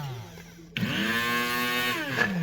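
A Proctor Silex 80402 electric coffee grinder grinding coffee beans starts abruptly and runs as a steady, loud motor whine with a high buzzing edge that holds for nearly two seconds before easing, with no talking.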